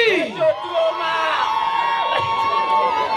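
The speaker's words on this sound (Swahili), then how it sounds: "Wapi makofi ya Beki?" A lively crowd at a candle lighting ceremony at Egesa Villa cheers and whoops for Beki, with shouts and excited voices rising over music, loud and close.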